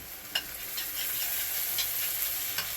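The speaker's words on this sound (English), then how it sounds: "Kind of just work the spoon around to get the excess off." A spoon stirring and scraping a Salisbury steak mixture, soft repeated scrapes over a steady hiss, close and fairly quiet with no talk.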